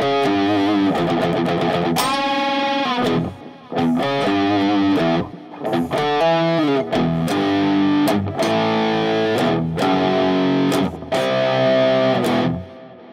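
A distorted electric guitar plays a riff, with string bends and short phrases separated by brief gaps, loud and up close with no voice over it.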